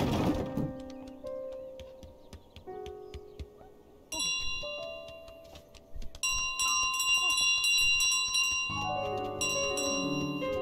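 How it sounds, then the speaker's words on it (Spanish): Bell chimes ring out in Untitled Goose Game, a run of bright, ringing strikes with layered tones that build up and overlap as the clip goes on, clear and fairly loud. "Campana, güey."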